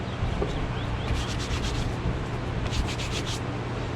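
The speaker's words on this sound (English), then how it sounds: "It's really easy to just trim off. I use a edger." A leather edger trims the edge of a thick, double-welted leather handle, giving a steady close scraping and rubbing texture that runs unbroken for a few seconds.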